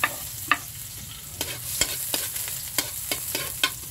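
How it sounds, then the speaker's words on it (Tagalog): Garlic sizzles in hot oil in a pan for pineapple chicken, with a steady frying hiss broken by regular clicks and scrapes of a utensil stirring. "Mga konyot, gisa na natin ng bawang."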